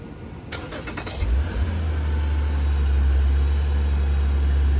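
A car engine cranks briefly and catches, then settles into a steady, close, low idle that continues to the end.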